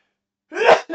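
A single sharp sneeze bursts out after a moment of silence, close and loud, followed by a short trailing breath.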